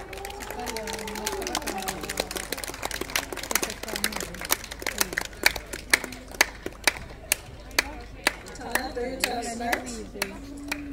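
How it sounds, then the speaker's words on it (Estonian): An audience at a cow beauty championship in Estonia claps in a scattered, rhythmic way, with sharp individual claps under an announcer's voice, the claps turning sparser and more spaced out near the end. "Aplaus!"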